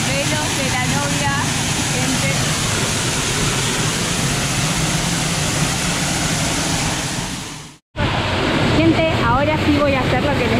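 Waterfall roar heard from directly beneath the Velo de la Novia falls near Ushuaia, a loud, steady broadband rush of falling water that briefly cuts out near the end, then resumes with someone talking over it.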